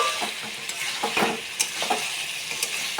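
Meat being braised (kasha) in oil with salt and turmeric, the oil now separating, sizzles steadily in the pan with a broad hiss and occasional spatula scrapes and stirs, close and alone without talk.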